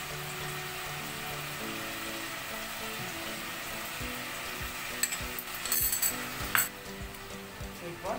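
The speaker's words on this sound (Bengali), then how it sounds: "এরপর দিয়ে দিচ্ছি দুধ আর মিঠা আতর।" Milk and sweet attar pour into a pot of soya chicken biryani, a soft liquid sound over a steady sizzle, with a few clinks and stirring noises toward the end.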